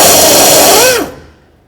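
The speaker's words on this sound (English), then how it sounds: "we're going to use our 11mm, and we're going to take out the lower bolt that holds the steering shaft to the power steering rack" An 11mm power tool spins loudly on the lower bolt joining the steering shaft to the power steering rack of a 2007-2014 Cadillac Escalade, whirring steadily for about a second before its pitch sweeps down as it winds to a stop.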